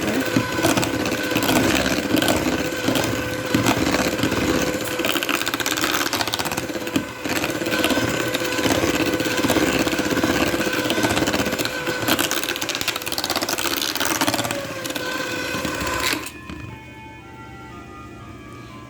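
Electric mixer running steadily in a mixing bowl, creaming butter and sugar for a cream cheese pound cake; a loud continuous motor whir with rhythmic beater clatter that cuts off near the end, leaving quieter background.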